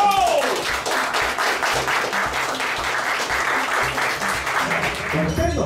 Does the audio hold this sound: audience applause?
yes